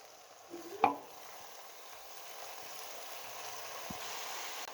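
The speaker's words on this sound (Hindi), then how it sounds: "मेथी को हमने इसके अंदर फ्राई करना है।" Fenugreek leaves fry with garlic and ginger in a pan, giving a soft, low hiss throughout, with one sharp clink of a spoon against the pan near the start.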